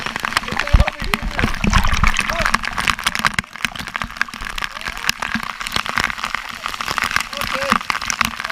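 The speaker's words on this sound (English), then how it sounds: "So there's a lot of water coming down under here" Water rushes and splashes down constantly nearby, a dense roar with scattered splatters, while voices talk over it.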